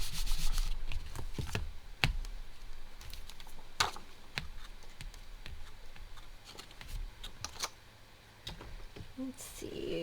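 Hands rubbing firmly across the back of a card-making piece on a work surface, a scratchy burnishing sound in repeated strokes with occasional sharp taps, close and fairly steady throughout.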